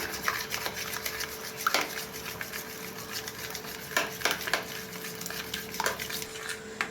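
Egg being mixed with pepper and chili powder for egg kalaki, brisk close stirring and scraping of a utensil against a bowl or pan, with a few sharper clinks.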